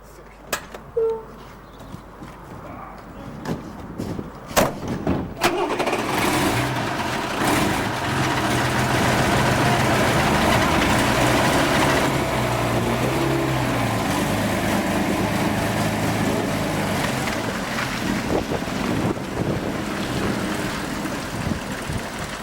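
A loaned lorry carrying pantomime scenery starts up and runs with a steady, heavy low engine rumble that builds after a few seconds of clatter and then holds loud and continuous.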